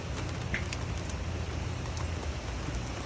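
Steady rain falls outdoors in a dense, even hiss of patter that stays constant throughout, with no voices over it.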